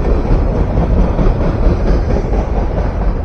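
A Norfolk Southern freight train rolls past on the Lehigh Line at Phillipsburg, New Jersey, a loud, steady, close rumble with dense low-frequency roar throughout.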